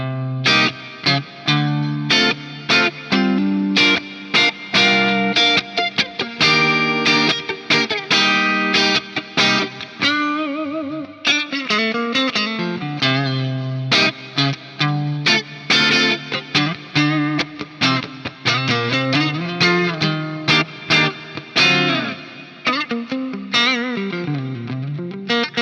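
Electric guitar played through an Axe-Fx modelling processor set to a Soldano SLO amp model with reverb: a driven, distorted tone carrying chords and single-note lines. It plays continuously and loud for the whole stretch, with no talking.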